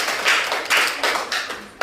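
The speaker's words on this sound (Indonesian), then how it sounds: "Kita berikan aplaus dulu." Short burst of applause after a group presentation in a physics class, with a few sharp claps from a small group of hands, fairly close.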